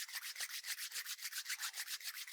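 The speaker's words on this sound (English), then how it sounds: "begin to rub the palms together" Palms rubbing together briskly, a close, continuous rhythmic swishing with quick even strokes, alone and fairly soft.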